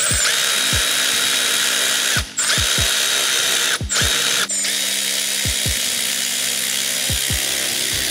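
A power tool whirs in short repeated bursts, ratcheting to tighten parts during a blow off valve install on a Toyota Tundra Hybrid. It plays close and loud over a constant background hum.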